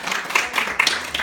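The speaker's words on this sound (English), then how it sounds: "They're all clapping." Guests clapping together at a surprise birthday party toast, a brisk, dense patter of many hands that carries steadily at close range with no talk over it.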